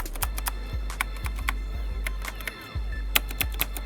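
Fingers type on a Razer BlackWidow mechanical gaming keyboard, producing close, crisp, rapid key clicks and clacks in an uneven typing rhythm, heard alone.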